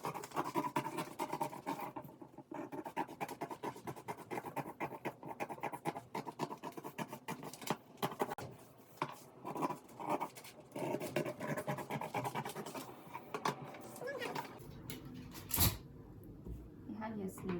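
Scissors snip through paper while a sleeve pattern is cut out, a dense run of close crisp cuts and rustles with short pauses and a louder crackle near the end.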